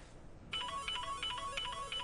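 A mobile phone begins ringing after a short moment of quiet, and its tone repeats in steady pulses. The sound is faint, as if heard across a room.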